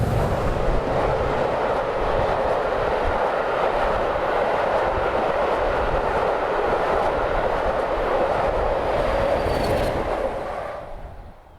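A train runs steadily along a preserved railway line, a loud continuous rumble and rail roar heard close by, fading away at the end with no voices.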